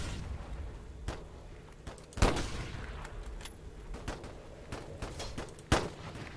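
Rifle shots in the WW1 online game Holdfast: Frontlines, fairly faint and scattered, with a few sharper close cracks among distant battlefield firing and rumble.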